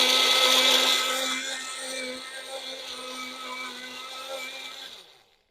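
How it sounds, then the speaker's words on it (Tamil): A kitchen mixer grinder whirs loudly as it grinds sugar into fine powder for whipping cream, a steady high-pitched motor whine that eases slightly and then cuts off near the end, with no talking. "அதனால் நல்லா ஃபைனாக நான் பவுடர் பண்ணிக்கிறேன்"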